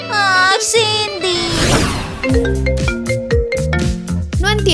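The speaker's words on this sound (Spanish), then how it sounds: "¿Por qué Eric llama a mi hermana?" A mobile phone rings with an incoming call, a bright melodic ringtone of repeated tonal notes playing loudly and close, with a short noisy burst in the middle and no speech.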